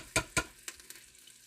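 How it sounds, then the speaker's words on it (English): Onions fry in a pan for a West African peanut stew, two quick stirring scrapes over a steady soft sizzle, close and fairly quiet. "My onions are getting cooked."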